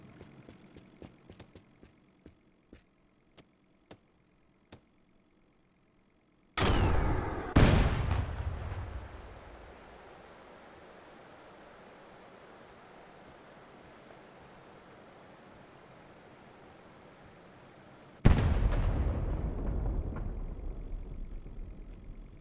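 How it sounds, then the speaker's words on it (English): A gas station in Drive Beyond Horizons 2 is blown up by a rocket launcher: a few sharp clicks, then two sudden heavy blasts trailing into a long roaring rumble, and a third loud burst near the end. "if you have a rocket launcher, it's possible to blow up these gas stations"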